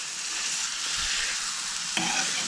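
A large burger patty sizzling on a cast iron griddle on an outdoor grill, a steady close frying hiss with a couple of soft pops, no speech.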